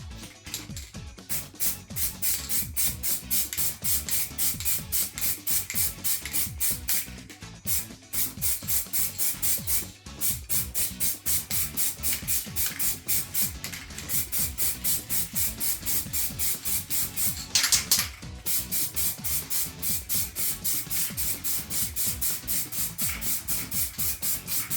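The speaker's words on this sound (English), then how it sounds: "So now I'm going to put the mask on and just going to spray everything." Spray gun applying thin coats of lacquer onto a corner bathtub during a renovation, a steady close hiss running almost continuously with a few brief pauses and slight pulsing.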